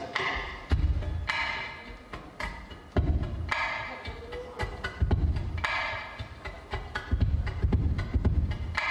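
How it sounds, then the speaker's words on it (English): Deep, thumping beats struck on a ukulele body like a bass drum, repeating in a steady pulse with lighter taps between them, close up. "the heartbeat of the ukulele, the bass drum, which sounds like this"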